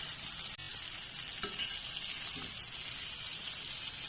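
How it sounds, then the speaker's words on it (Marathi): Cabbage muthiya fry in oil in a pan, a steady faint sizzle with a few soft utensil clicks and scrapes. "ते तेलावरनं थोडीशी भाजू द्यायची आपण"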